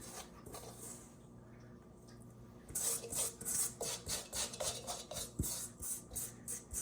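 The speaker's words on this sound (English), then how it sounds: "I'm going to put it out on the board, and we're going to go ahead and knead this by hand." Bread dough for Japanese milk bread being kneaded by hand on a board; after a quiet start, rhythmic rubbing and pressing strokes repeat steadily, close and fairly loud.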